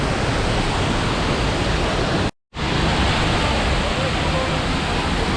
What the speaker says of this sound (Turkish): Son kez şelaleyi izleyin.